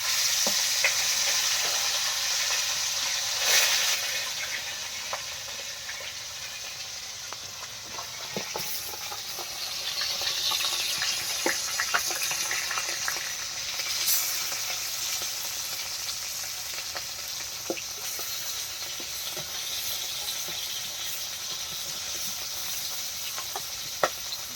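Spiced prawns coated in chili, turmeric and salt fry in a pan, giving a continuous close sizzle and hiss with occasional crackles and stirring clicks, steady throughout with no talking.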